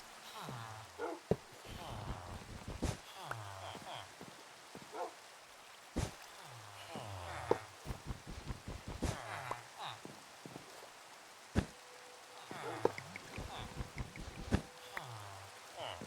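Rain falls in a Minecraft modpack world as a steady, soft hiss beneath someone talking over it for most of the time.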